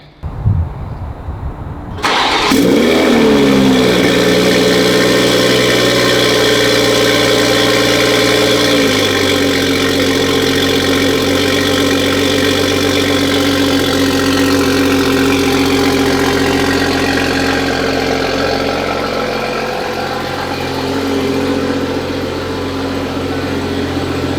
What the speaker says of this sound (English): We're gonna get a little cold start up because this has been sitting for a while